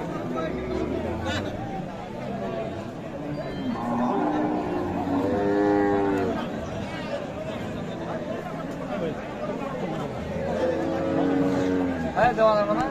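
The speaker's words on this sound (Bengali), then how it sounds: "গাভী এবং বাছুর।" Friesian cows and calves low and moo at a busy cattle market in Chattogram, the lowing rising repeatedly under constant chatter and haggling voices nearby.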